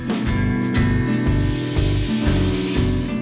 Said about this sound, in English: we're milling the XL version out of solid blocks of aircraft-grade aluminum, over at one of our state-of-the-art CNC machines